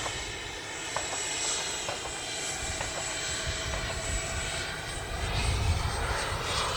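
A FlyFans MiG-25 RC model jet drones overhead in a steady whooshing roar that swells slightly toward the end, with no talk.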